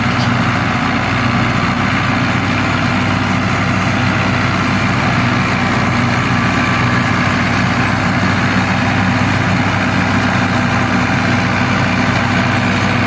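A 2020 New Holland (Fiat) 640 tractor runs with a chopper attached, giving a continuous loud, even diesel engine drone with no change in pitch or pace, and no talk over it.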